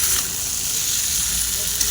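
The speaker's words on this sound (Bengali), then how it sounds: "ভেজে রাখা ফুলকপিটা এখানে আমি দিয়ে দিচ্ছি" Pre-fried cauliflower and potato tossed in a sizzling wok for a Bengali fish curry, a loud continuous close sizzle with stirring scrapes throughout, no talking.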